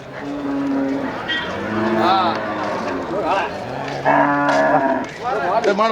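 Kangeyam bull at a cattle market bellowing several times in long drawn-out moos, with other cattle calls and market voices overlapping nearby.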